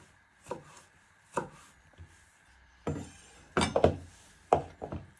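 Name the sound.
knife chopping onion and garlic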